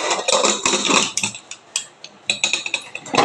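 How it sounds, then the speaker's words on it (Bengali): A big pressure cooker is set down on a home kitchen stove for boiling, giving a few sharp metallic clanks and scrapes of pot against burner, close and fairly loud with brief pauses between knocks. "তো বড় প্রেশার কুকারটা আমি বসিয়ে দিলাম।"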